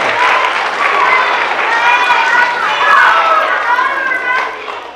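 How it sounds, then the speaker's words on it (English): A large crowd of school children applauds and cheers loudly for a visiting guest in a school gathering, sustained clapping mixed with excited young voices throughout. "let's have a round of applause and welcome him to Voyager"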